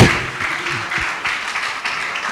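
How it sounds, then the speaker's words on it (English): Conference audience at the Africa Digital Marketing Summit applauds the speaker Mr. Malik, a dense wash of clapping, steady and fairly loud after a brief thump at the start. "Let the applause rise to high heavens for Mr. Malik"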